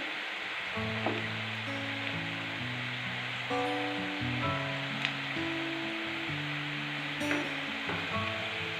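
Potato snacks frying in oil in a pan over low-medium heat, a steady soft sizzle with occasional crackles, close and continuous while music plays over it.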